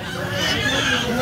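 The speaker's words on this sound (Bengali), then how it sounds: "দেখেন এই যে এখানে পাতি হাঁসগুলো আছে।" Domestic ducks crowded together at a livestock market in Tangail, Bangladesh, with a dense, continuous wash of fowl calls and clucking blended with busy market noise and nearby voices.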